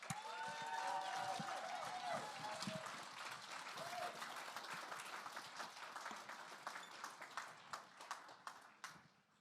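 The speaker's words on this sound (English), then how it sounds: "Let's give her a warm round of applause." Warm audience applause at a gala, full and sustained at first, then thinning into scattered individual claps that fade toward the end.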